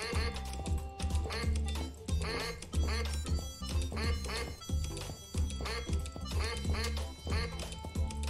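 Video game ducks in Suicide Guy, at a funfair shooting gallery with a slingshot, quack repeatedly in a quick, regular rhythm, loud and close, mixed with game music and someone talking over them.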